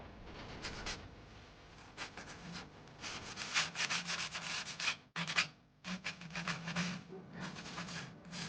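Painted wooden furniture gets a light hand scuff-sanding, a close, dry rasping scrub in repeated back-and-forth strokes with a short pause midway.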